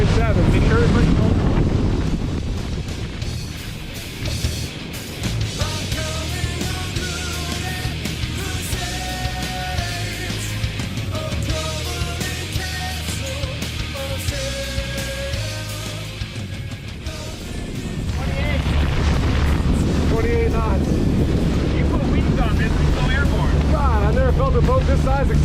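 A boat on a sea trial runs under heavy wind buffeting on the microphone, its low engine drone and hull rumble rising and holding steady for the whole stretch, loud and close, with a steadier droning section in the middle.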